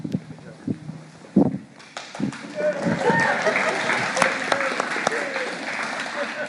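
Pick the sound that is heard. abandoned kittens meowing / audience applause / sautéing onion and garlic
audience applause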